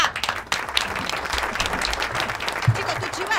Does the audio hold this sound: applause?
yes